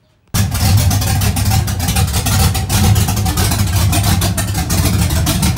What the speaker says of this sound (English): the clips I have of the truck idling with the cam